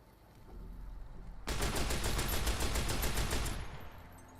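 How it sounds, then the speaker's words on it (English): A shoulder-mounted machine gun fires in Fallout: New Vegas, a single loud, rapid burst of tightly spaced shots lasting about two seconds that cuts in over a low rumbling background and then stops abruptly. "Oh, that is the shoulder mounted machine gun."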